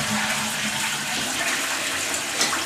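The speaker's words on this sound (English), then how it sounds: "Now we can test the flush and make sure we've got no leaks." Push-button toilet flush on a newly upgraded cistern: a steady hiss and rush of water pouring through the bowl, continuous and close, with no voices.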